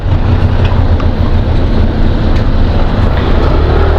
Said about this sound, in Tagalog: Nakasampa na ako sa motor at yun. Let's go.